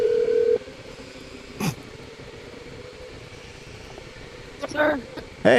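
A phone is being used to call a driver during electric go-kart endurance racing, giving short bursts of dialing and call tones spread across a quiet stretch with steady background noise.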